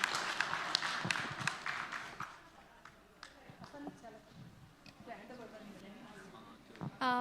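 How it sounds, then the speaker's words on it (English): Audience applause at a human rights conference for the Kathmandu Declaration on gender inclusion: a burst of clapping that thins into scattered claps, with voices talking over it. "So give a big clap of round for the Kathmandu Declaration on gender inclusion."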